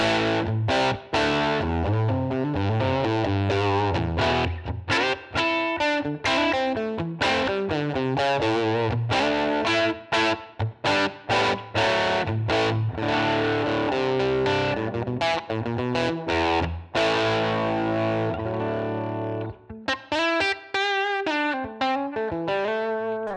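Electric guitar played through a Line 6 Helix US Small Tweed amp model with a new speaker cab, loud and driven, with strummed chords and busy riffs ringing continuously, ending in a brighter picked phrase.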